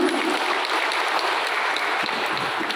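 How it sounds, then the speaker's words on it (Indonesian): A church congregation gathered for a Christmas service gives lively applause, a dense, continuous clatter of many hands close by with no speech. "Boleh sama-sama kita berikan tepuk tangan yang meriah untuk Tuhan kita Yesus Kristus."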